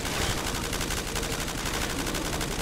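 Sustained rapid machine gun fire in Black Ops 3 Zombies on the Scrapyard custom map, a loud, continuous stream of dense shots with no pauses.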